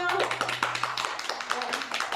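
An audience at a worship conference event claps briefly in scattered hand claps under and between talking voices.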